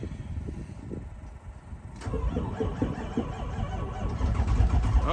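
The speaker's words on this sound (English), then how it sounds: "we're gonna see if the red truck will start" A red truck's engine, left unstarted for months, cranking in freezing snowy weather: a muffled, labored churn that suddenly catches about midway into a louder, rough, steady running rumble nearby.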